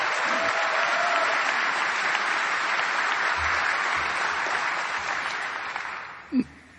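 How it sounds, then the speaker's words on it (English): Sustained applause from a large crowd at a Hillary Clinton campaign rally in Philadelphia, Pennsylvania, steady and dense, fading out toward the end with a brief thump just before it stops. "Give them a round of applause and thank them for the work that they do."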